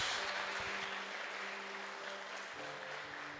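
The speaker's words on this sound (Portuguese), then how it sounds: "Pode aplaudir a Jesus." A church congregation applauds at a Friday evening service, a faint, continuous wash of scattered hand clapping heard from a distance, with no clear voices over it.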